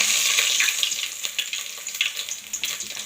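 Fennel seeds and cinnamon frying in hot oil in a pan for chicken gravy, a bright crackling hiss with scattered pops that fades slightly over a few seconds, close by, no talk.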